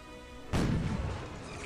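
A single sudden cannon blast in the video game Cossacks 2 booms out, loud and close, then rumbles away over the next second.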